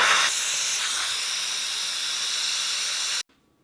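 An Instant Pot pressure cooker on quick release lets out a loud, continuous hiss of escaping steam for about three seconds, then stops abruptly, leaving near silence.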